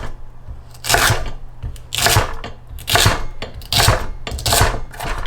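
A knife chops through fennel fronds on a board, giving five spaced bursts of crisp slicing strokes about a second apart, close and fairly loud with no voices.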